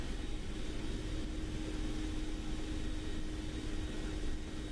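A Mi-24P Hind attack helicopter in the DCS flight simulator banks into a right turn, its engines and rotor producing a steady, loud, unbroken drone with a faint high whine on top.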